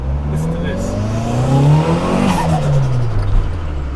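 A turbocharged Toyota Starlet revs hard in first gear, its engine note climbing quickly to a loud peak and then dropping back as the revs fall. The sound is close and strong, and no one speaks over it.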